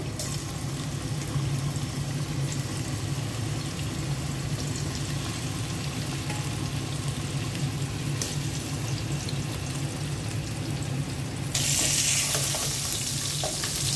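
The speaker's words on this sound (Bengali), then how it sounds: "প্রথমে মাছগুলো ভেজে নেব। মাছগুলো দিয়ে দিচ্ছি।" Fish pieces frying in hot oil in a pot for a mashed fish bhorta, giving a steady, close, loud sizzle and crackle that holds throughout and swells brighter near the end.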